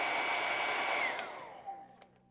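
A hair dryer blowing steadily to dry acrylic paint on a canvas, loud and close, then winding down as it is switched off and the whirr fades away with no talk.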